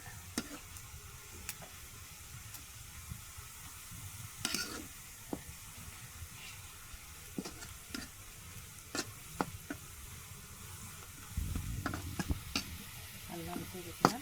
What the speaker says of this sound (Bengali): লাল লাল করে আলাদা পেঁয়াজ ভেজে লাল লাল করে নেওয়া হচ্ছে।